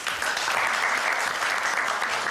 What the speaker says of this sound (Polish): No dobrze, brawa za odwagę.